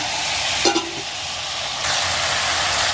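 Chopped potatoes, papaya and banana cook in a pan on a stove with a continuous close sizzle, a brief clink of a utensil early on, and a slightly louder hiss near the end.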